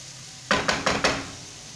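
Ingredients cook in a pan over a soft sizzle, then a utensil stirs them in four quick, close scraping knocks against the pan.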